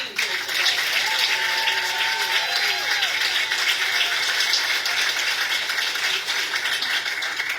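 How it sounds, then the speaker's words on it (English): Loud, continuous applause from a crowd at a community event in Indiana fills the whole stretch as a dense, even roar of clapping, with a faint voice briefly heard under it early on. "Please give them a round of applause for being here today."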